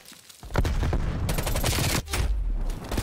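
Rapid gunfire from the video game Call of Duty: Black Ops Cold War on the Nuketown map, dense loud bursts of shots with a brief break in the middle.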